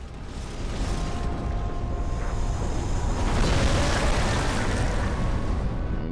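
An explosive barrage attack from a boss in Demon's Souls, a dense rumbling blast that builds and roars continuously for several seconds at high volume.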